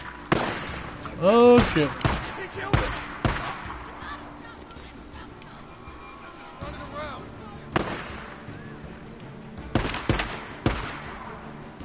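Scattered gunshots in the video game Days Gone, sharp isolated bangs and short clusters spread across the scene at irregular intervals, with a man's brief swearing and other voices between them.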